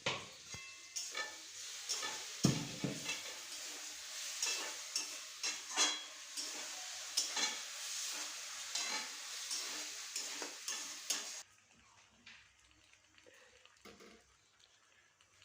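Repeated scraping and stirring strokes in a pan over a soft sizzle, rhythmic and close, then the cooking sound drops to a quiet hiss near the end.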